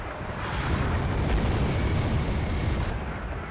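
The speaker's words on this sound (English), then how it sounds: "all of the rocket fire from these Red 4 helos" Rocket fire from helicopters in the real-time strategy game Wargame Red Dragon, heard as a dense, continuous roar of overlapping blasts and rumble that swells and holds steady for several seconds before easing slightly.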